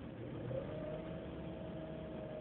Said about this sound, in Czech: nastavím otáčky motoru